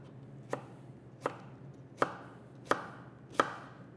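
Knife slicing through an onion on a cutting board, five crisp evenly spaced cuts about 0.7 seconds apart, close and clear over a quiet kitchen background with no talking.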